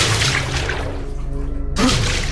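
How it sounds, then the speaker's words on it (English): Heavy towels plunge into a full tub of water, giving a close, continuous swirl of splashing and sloshing liquid with a brief quiet dip before another surge of churning water. "the sound of various heavy towels immersing into a full water tub were recorded"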